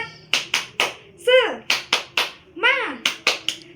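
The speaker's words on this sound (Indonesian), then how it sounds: "kita berdiri dulu, kita tepuk semangat bersama-sama ya." Children in a combined Year 2 and Year 3 classroom perform the tepuk semangat chant, sharp rhythmic group claps in a patterned beat interleaved with short chanted vocal calls, close and clear.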